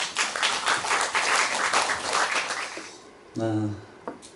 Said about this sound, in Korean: 큰 박수로 청해 주시기 바랍니다.